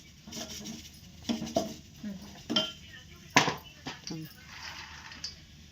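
Metal kitchen pots and a kadhai lid clink and knock in scattered, faint bursts, with people speaking Marathi in the background.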